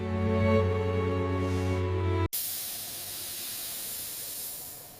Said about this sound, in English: The hot steam is very peaceful.